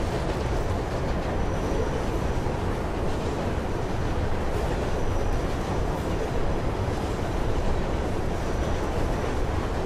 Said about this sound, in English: Take the train.